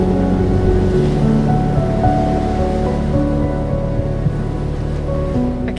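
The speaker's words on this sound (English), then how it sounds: "I can imagine standing here one day watching Story surf these waves" Ocean surf rolls onto an island beach in the Philippines, a loud, continuous roar of breaking waves with wind mixed in and no voices.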